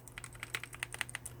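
A mechanical keyboard with lubricated blue switches being typed on: about a dozen crisp, close keystrokes in a quick, uneven rhythm against a quiet background.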